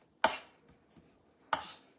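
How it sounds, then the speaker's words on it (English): A knife chops onion on a cutting board for mango salsa, two crisp close strokes about a second and a quarter apart, each followed by a brief scraping tail, with quiet between. "Chopping for the onion."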